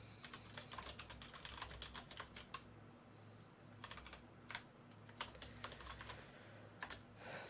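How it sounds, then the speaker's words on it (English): Fast, light clicking of computer keyboard keys comes in quick clusters and short pauses, faint and close over a low steady hum, with no voices. "and type something in."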